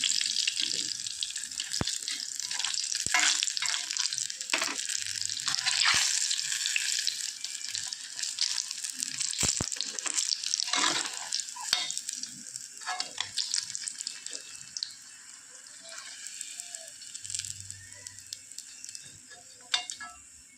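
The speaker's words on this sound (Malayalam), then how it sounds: "ഇനി ഈ വശവും കൂടെ നിന്ന് നന്നായിട്ട് ഫ്രൈ ആയി വരട്ടെ" Jackfruit fritters fry in hot oil, a bright, steady sizzle with scattered crackles and pops running continuously, moderately loud and close, with occasional faint clinks and no talk.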